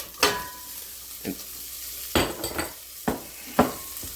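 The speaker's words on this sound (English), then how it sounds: "next in goes our smoked sausage" Smoked sausage sizzling in a pan for chicken and sausage etouffee, with a steady frying hiss broken by several sharp scrapes and clanks of a utensil stirring against the pan.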